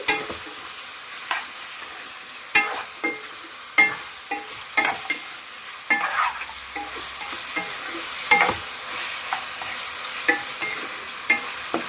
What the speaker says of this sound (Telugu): ఇట్లా హై ఫ్లేమ్ మీద ఉంచి కొంచెం టాప్ చేసుకుంటూ ఉండాలండి. మనం ఇట్లా కలుపుతూనే ఉండాలి.